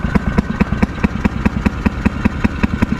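A Fairmont M9 two-stroke engine runs just after a cold start, firing with a rapid, even put-put rhythm of sharp pulses, close and loud, with no voices.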